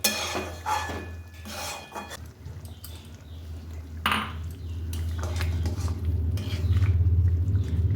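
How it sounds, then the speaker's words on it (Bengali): Soaked paneer going into boiling gravy for dhaba-style matar paneer, with clattering pan and utensil knocks over a steady low bubbling simmer that grows louder toward the end. "এরপর ভিজে রাখা পনিরটা দিয়ে দেবো।"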